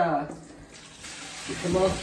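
Cold tap water running over canned kidney beans in a kitchen strainer, a soft rushing stream that rises toward the end, with a person's voice heard briefly at the start.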